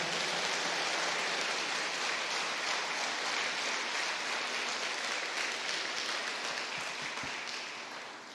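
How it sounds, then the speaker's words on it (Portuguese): Congregation in a church applauding strongly, a steady dense wash of clapping that sounds almost like heavy rain, holding level and tapering slightly near the end. "Aplauda ao Senhor bem forte."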